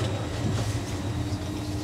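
A TransPennine Express train bound for Newcastle stands at a station platform, giving a steady low rumble and hum that holds loud and close throughout a short stretch with no talking.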